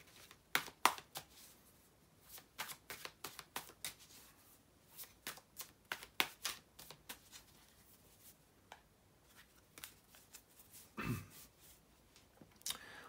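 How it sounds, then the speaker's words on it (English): Tarot cards are shuffled in quick, crisp riffling bursts, close and fairly quiet, with brief pauses between rounds. "bear with me just a second, guys, to shuffle the tarot cards"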